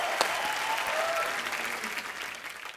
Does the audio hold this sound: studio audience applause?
yes